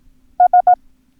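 Three short, evenly spaced beeps at a single steady pitch, the Morse code letter S, crisp and quick, with silence around them.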